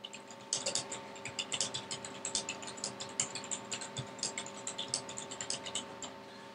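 Typing on a computer keyboard: quiet, rapid clusters of key clicks in an irregular rhythm, close by, over a low steady hum with no talking.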